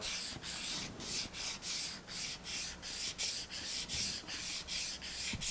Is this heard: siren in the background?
no